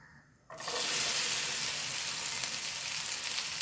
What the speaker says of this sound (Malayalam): വെളിച്ചെണ്ണ ചൂടായി വെണ്ടയ്ക്ക് ഇട്ട് കൊടുക്കണേ